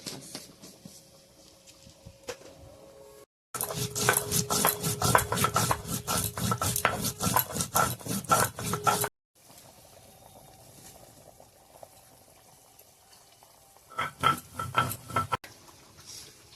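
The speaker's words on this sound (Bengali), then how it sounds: "এখন মশলাগুলো বাটিয়ে নিই। এলাচ দিয়ে দিছি, আর লং, আর গোলমরিচ" Cardamom pods, cloves and black peppercorns are ground for a Bengali fish dish, giving a loud, harsh rasping grind that pulses for about five seconds, then a shorter burst later, with quiet kitchen hum between and no talking.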